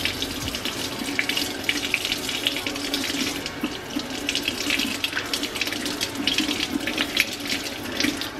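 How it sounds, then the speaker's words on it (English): Tap water runs steadily into a sink while frozen pinkie mice are rinsed under it, a continuous close splashing hiss with no talking. "I'm going to wash them off a little bit. This gets the rodent scent off of these pinkies."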